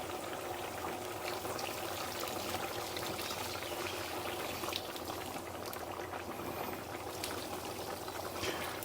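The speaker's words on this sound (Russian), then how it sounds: "Как видно, заливаю кипяток." Boiling water is poured into a pot of pilaf rice, giving a steady, close rushing trickle and bubbling that runs throughout without speech.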